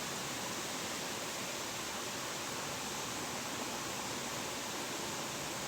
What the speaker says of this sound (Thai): เสียงน้ำไหลดังมากเลยนะ